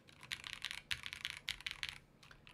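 Typing on a KBDFans Tofu60 2.0 mechanical keyboard: quick, crisp, evenly paced keystroke clicks in close bursts, clean and consistent with no voice over them.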